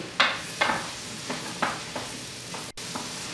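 Mushrooms, onions and garlic cooking down in a pan for an Italian beef hoagie, giving a soft sizzle broken by a few separate spatula scrapes and taps, with no talking.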